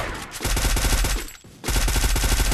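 Rapid automatic gunfire from a Free Fire battle-royale match, firing in two loud, tightly spaced bursts with a brief pause between them.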